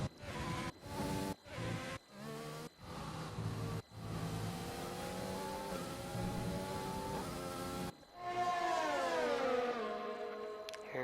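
F1 race cars from F1 2020 scream past at the British round, a string of short engine bursts cut by quick gear shifts, then one long rising and falling wail of cars running side by side, loud and close with no talk.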